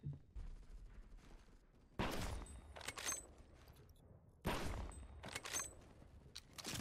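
Gunfire in the Phantom Forces video game: two loud bursts of rapid automatic fire, each followed by a run of quieter shots, over a low constant background with no talk.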